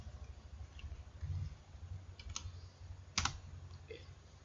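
Keys clatter on a computer keyboard while a spreadsheet formula is entered, with a few quick taps and louder sharp clicks, close and fairly quiet.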